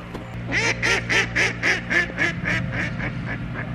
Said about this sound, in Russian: Утки обиделись, уплыли назад